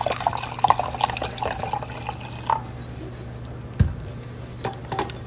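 Japanese Kangen water is poured into a sample container for an ORP test, with gurgling, dripping splashes and small clinks of the vessel over a steady low hum and a sharper knock partway through.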